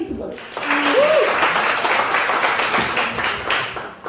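Audience applause at a stand-up comedy show, a steady burst of clapping from a room of people lasting a few seconds, with a voice briefly heard over it.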